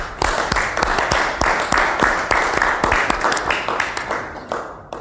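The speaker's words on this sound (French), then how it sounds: "je pense qu'on peut applaudir" An audience applauds at a live event, a dense, steady round of clapping with many sharp hand claps throughout, holding loud before thinning slightly at the end.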